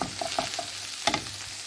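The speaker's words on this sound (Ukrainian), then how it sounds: "смажу з чесничком одну хвилинку" Steady sizzling of zucchini and grated garlic frying in a pan, with a few scraping stirs of a utensil, close up and continuous.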